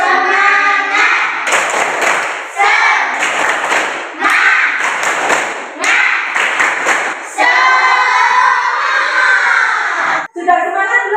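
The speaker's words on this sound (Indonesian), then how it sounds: "1, 2, 3. Tepuk semangat." Schoolchildren in a classroom perform a rhythmic spirit clap, chanting along in unison as bursts of synchronized clapping and thumping come in regular bars, loud and close, with short pauses between phrases.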